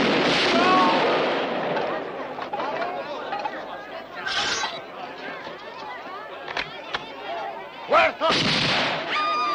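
Gunfire in a 1975 western action film, sharp shots and bangs breaking through excited shouting and crowd chatter, with a couple of louder blasts toward the end.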